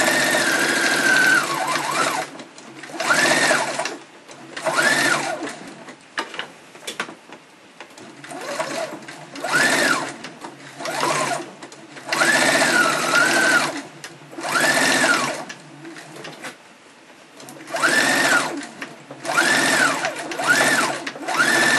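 A sewing machine with a standard presser foot stitching flat-lined corset seams in fashion fabric, loud close motor whirring in repeated runs of a second or two separated by short pauses, with faint thumps between bursts.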